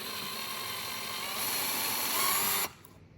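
A power drill with a 9/64 inch bit drills out rivets on a Ferrari F430 Spider convertible top, whining steadily and loudly, close up, building slightly in intensity before cutting off abruptly near the end.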